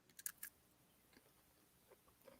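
A crunchy seasoned potato chip being bitten and chewed, with a few sharp crisp crunches near the start, then quieter chewing and soft mouth sounds that end in a final bite, all close up and with no talk.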